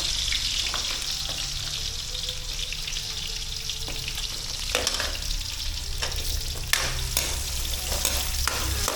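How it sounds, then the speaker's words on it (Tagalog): Oil sizzles and crackles steadily as carrots fry in a pan, with occasional scraping stirs and pops, close and continuous. "Prito po natin ang ating carrot."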